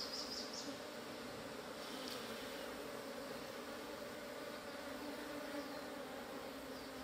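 Bees from a beehive buzz in a dense, continuous drone, fairly faint but steady throughout, with no talk over it.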